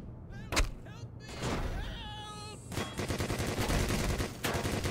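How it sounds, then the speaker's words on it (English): Security turret in Black Mesa opening fire, a run of dense rapid shots that starts about halfway through and keeps going steadily and loudly, mixed with other game sounds. "There's a security turret, and it does not recognize I'm one of them."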